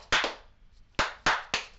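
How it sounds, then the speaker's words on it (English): A few sharp hand claps ring out close by: a quick double clap, a pause, then three more evenly spaced claps, crisp and alone without talk. "let's clap us in"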